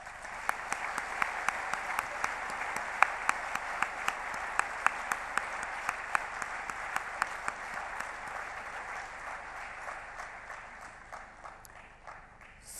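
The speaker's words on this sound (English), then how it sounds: "give the entire team a round of applause" A company audience applauds its whole team at a corporate address, steady dense clapping with a few sharper close claps, sustained for about twelve seconds and thinning slightly at the end.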